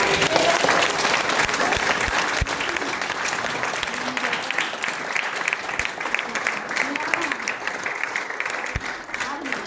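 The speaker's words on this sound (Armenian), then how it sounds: "եկեք ևս մեկ անգամ բարձր ծափահարեք" A hall full of parents and guests at a celebration for Kindergarten No. 31 applauds loudly and steadily, with a dense, continuous wash of clapping and some crowd voices mixed in.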